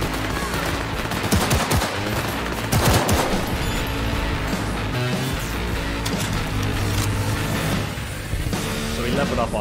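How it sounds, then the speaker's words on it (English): Gunfire from a legendary pistol in Cyberpunk 2077, with loud, rapid shots and impacts over dense game noise and chaotic combat effects, and a voice talking now and then. "So this is our legendary pistol. Seems pretty powerful, especially with those headshots doing extra damage."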